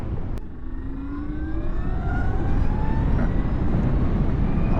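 A 2022 Zero FXE electric motorcycle at full throttle gives a loud, steady electric whine that climbs smoothly in pitch as it accelerates, over constant wind rush.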